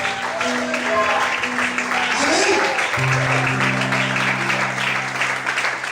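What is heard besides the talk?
church congregation applauding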